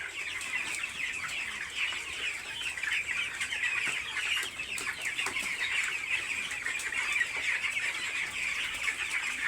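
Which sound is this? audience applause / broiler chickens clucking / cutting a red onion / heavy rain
broiler chickens clucking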